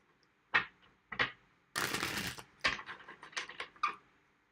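Tarot cards are shuffled by hand close up in a handful of quick riffling bursts with short pauses between them, crisp papery flutters with no voices.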